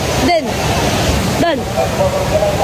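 Taytay Falls waterfall roaring in a steady, loud broadband wash close by, with brief voices of people talking over it.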